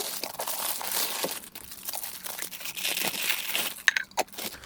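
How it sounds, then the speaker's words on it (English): Plastic bags crinkle and crunch as a TWOMEOW adjustable electric coffee grinder is pulled out of them, with close, continuous rustling and a few sharper crackles near the end. "this is just in a couple little plastic bags, so we'll take that out"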